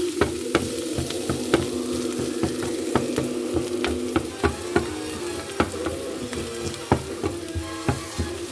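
Steady sizzle of onions frying in a pan, with occasional sharp clinks and scrapes of a utensil stirring them.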